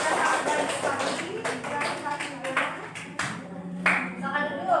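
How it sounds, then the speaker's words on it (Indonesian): A school class claps hands for a student group, a steady run of close, crisp claps lasting several seconds while voices talk over them in the classroom. "Oke, tepuk tangan juga untuk kelompok 3."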